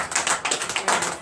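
A church congregation clapping during morning prayer, a quick run of rhythmic claps, close and fairly loud, with no voice over them.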